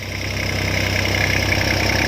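Old Japanese Iseki TS3110 tractor with front loader idles steadily, a close, continuous mid-pitched diesel chug with a fast regular knock, no voices over it.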